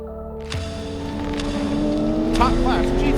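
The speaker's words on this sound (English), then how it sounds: "Top class GTO heads down the hill this morning." GTO-class race cars head down the hill at Michelin Raceway Road Atlanta during a 2024 World Racing League event, their engines droning and rising in pitch as they pass, under a voice talking.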